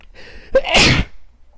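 A single sneeze bursts out close and loud, preceded by a brief sharp intake, then quiet.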